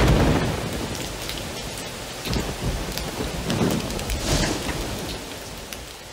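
Heavy tropical rain in a rainforest region during the wet season, a dense continuous roar of falling water with low rolling thunder swelling and fading beneath it.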